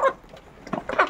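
Backyard chickens clucking in a short burst near a rooster, a few quick close clucks and squawks at the start and end with a quiet gap between.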